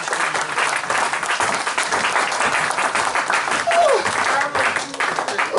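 A church congregation claps steadily and densely at an Easter service, a loud sustained wash of applause lasting throughout with a brief voice rising briefly near the end.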